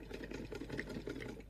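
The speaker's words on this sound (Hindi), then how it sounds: "ये हमारी सिलाई ऑफ साइड में स्टार्ट कर लिया हमने, इसको हम पूरी राउंड ऑफ साइड में" A sewing machine runs steadily while stitching a round back-neck design on fabric, giving a continuous soft mechanical whirr with fast rhythmic needle ticks at a low level.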